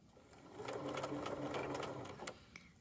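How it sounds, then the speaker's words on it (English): A sewing machine stitching along the bottom of a hoodie pocket, a steady close whirring run that speeds up and holds for a couple of seconds before slowing, with faint speech nearby. "Then I'll sew forward again."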